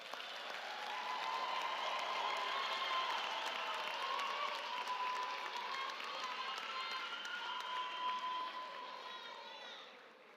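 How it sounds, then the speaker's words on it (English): A large crowd gives sustained applause at a university autumn graduation ceremony. The clapping is dense and steady for about ten seconds, then tapers off at the end. "can we give them a big round of applause?"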